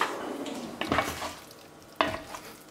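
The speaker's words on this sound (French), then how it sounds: "On va saler. On va mélanger le tout." Ingredients for a veal blanquette being stirred in a pan, a faint sizzle underneath with two distinct scraping stirs of a utensil against the pan, no talking.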